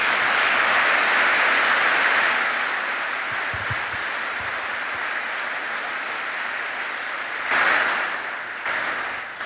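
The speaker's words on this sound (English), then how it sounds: "please give them a round of applause because they're great." Applause from a concert audience at a live acoustic guitar show in Rochester, a broad sustained roar of clapping that holds steady for several seconds, briefly swells, then tapers, with no voices over it.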